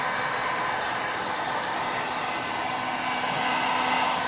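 A heat gun blows hot air in a steady, loud, unbroken rush during work on an LED retrofit for a Suzuki GS500F motorcycle, holding even for the whole stretch with no voices.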